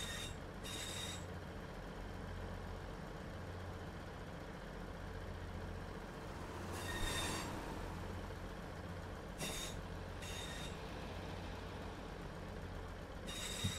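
A Class 158 diesel multiple unit in Train Sim World 3 on the Midland Main Line holds a steady low motor drone heard from outside. High hissing bursts break in now and then, and no one speaks.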